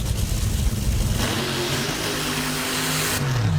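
A pair of top fuel dragsters, one a Chevrolet, fire up at Brainerd with a dense, roaring engine rumble, loud and steady, and a rising tone near the end.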